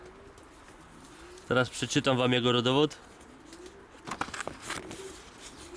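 A male racing pigeon from a German champion stud coos in one clear, rolling phrase of about a second and a half, close and loud, with someone speaking Polish before and after it.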